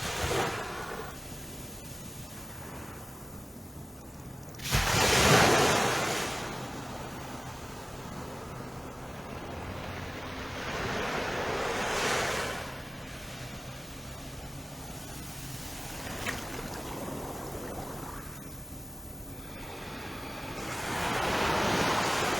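Ocean waves wash onto Paradise Beach at daybreak in slow surges, each swell rising to a rushing roar and then fading back to a soft hiss.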